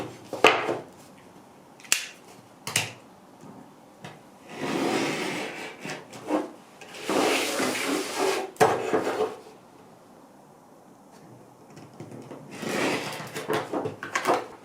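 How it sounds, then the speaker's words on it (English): A 4.5 by 6 inch square is cut out for a homemade epoxy mold, heard as irregular close scraping and cutting strokes with sharp clicks and short pauses between. "We're going to cut this all the way out."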